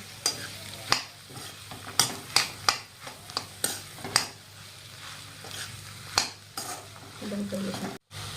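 Potatoes for aloo samosa filling stirred and fried over a low flame, with repeated sharp spatula scrapes and clinks against the pan, steady soft frying beneath, close and fairly loud, with no talking.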